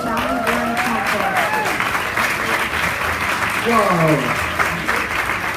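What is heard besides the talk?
applause from audience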